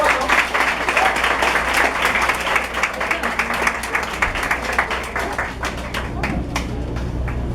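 Sustained applause from an audience at a community gathering for International Women's Day, steady dense clapping throughout, with occasional louder individual claps near the end.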